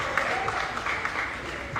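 An audience at a stage show with Pawan Singh applauds, a short burst of steady clapping and crowd noise at moderate volume, with voices mixed in.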